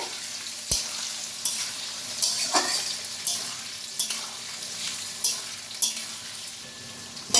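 Onions sizzling and frying in a pan, a steady hiss broken by regular scraping strokes of a spatula stirring every second or so.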